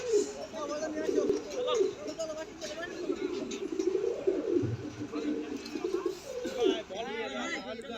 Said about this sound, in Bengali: এটা 42 দমের একজোড়া কবুতর